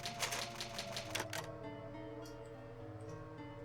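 Typewriter keys clack in a quick run of sharp strikes during a save in the Resident Evil video game, then fade to a quiet hum with a couple of faint ticks.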